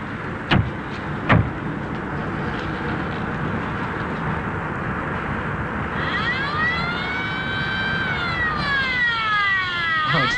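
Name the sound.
air base emergency siren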